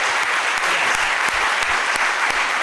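An audience applauding the panelists at a biotech skilling programme session, dense steady clapping from a room full of people, loud and sustained throughout.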